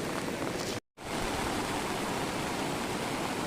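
Fast-flowing flood water after heavy rain rushes in a constant loud roar, broken only by a brief dropout near the start.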